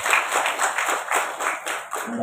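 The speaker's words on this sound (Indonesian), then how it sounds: "Tepuk tangan dulu untuk kita semuanya." Audience clapping at a Pergunu teachers' organisation gathering in Kudus, a steady patter of many hands lasting throughout, fairly close and moderately loud with no voices over it.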